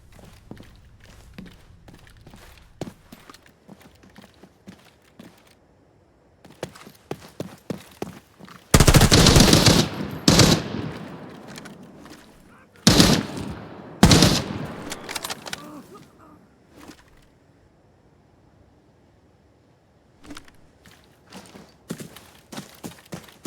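MP5 submachine gun bursts in Arena Breakout: Infinite, two loud, close volleys of rapid fire between stretches of footsteps and gear movement, with no talk.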